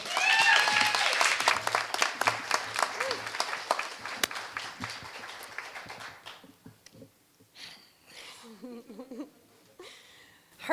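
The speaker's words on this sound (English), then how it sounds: "So please give a round of applause for Brenda." An audience claps for a speaker at a mental health storytelling event in Denver, loud dense applause that thins and fades by the middle, followed by scattered quieter sounds and brief talk near the end.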